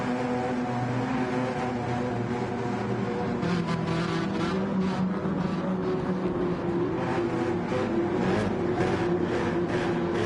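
Race car engines drone together at the start of a 15-lap Gran Turismo 7 Manufacturers Cup race at Sardinia Road Track A, a steady layered roar with rising revs and a dense, continuous rush throughout.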